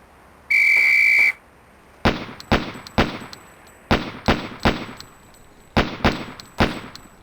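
In Police Quest SWAT, a shrill referee-style whistle blows once to start a shooting drill, followed by a rapid sequence of sharp, echoing gunshots in uneven bursts.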